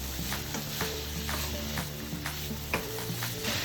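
Ground beef and vegetables sizzling in a pan for a loaded bolognese, a steady hiss and crackle of frying with occasional stirring scrapes, alone and at a moderate level.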